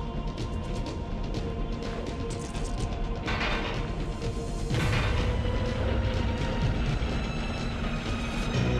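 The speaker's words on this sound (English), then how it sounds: "That was less of an explosion than I thought it would be as well." A muffled in-game blast from TimeSplitters: Future Perfect rumbles amid clattering mechanical effects, followed by a low booming swell, moderately loud without any voices.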